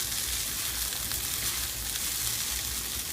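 Vegetarian fried rice with zucchini sizzles steadily in a hot pan while being stirred, a close, even frying hiss with faint scraping, alone without speech.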